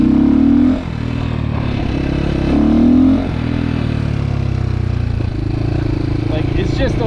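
A GPX FSE300R motorcycle with a freshly tuned OEM Delphi MT05.2 ECU, its engine droning loud and close, swelling in a couple of revs before settling into a steady running hum.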